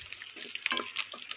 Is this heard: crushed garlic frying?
yes